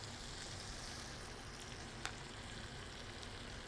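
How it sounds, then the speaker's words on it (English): Mushrooms sizzle steadily in a hot pan, a soft continuous crackle with one small pop partway through. "So you can hear that sizzling nicely."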